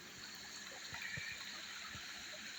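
A small, cold woodland creek trickles and burbles steadily at low volume, a soft continuous wash with a few faint splashes and no voices.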